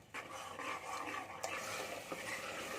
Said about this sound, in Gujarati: આપણે ટમેટાને સાતરી લેવાનું છે